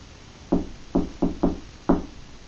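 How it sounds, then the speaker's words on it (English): Five distinct knocks on a door or hard surface, fairly close and alone, in an irregular pattern with short gaps between them over a quiet background. "Answer my knock."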